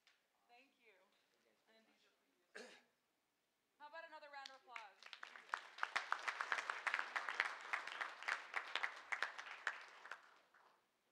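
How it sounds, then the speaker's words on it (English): Audience applause at a school board meeting, rising from about four seconds into dense, steady clapping that swells and then tapers, following a few seconds of scattered speech near the start. "How about another round of applause?"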